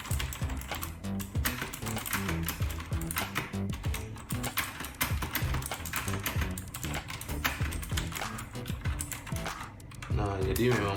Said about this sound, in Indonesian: keyboard ini ya, suaranya sih